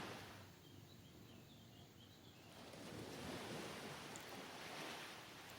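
Sea waves wash in and out in a soft, steady surge, swelling slightly louder toward the end, with no voices present.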